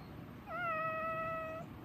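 A spayed farm cat lets out one drawn-out, faint meow, close by and alone against quiet background hiss.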